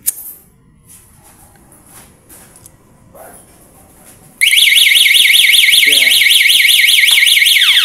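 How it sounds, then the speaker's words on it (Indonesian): A loud, piercing electronic alarm from a homemade fire detector suddenly starts after a few quiet seconds, wailing steadily in a rapid warbling pattern until the end. "Kalau alarmnya berbunyi berarti alat ini berhasil ya."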